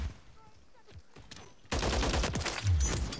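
Rapid gunfire in the video game Modern Warfare 3, a dense burst of shots that starts abruptly midway and stays loud and continuous to the end, preceded by quieter game ambience.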